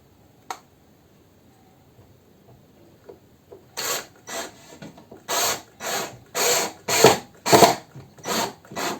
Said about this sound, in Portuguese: Vou agora colocar nosso segundo parafuso.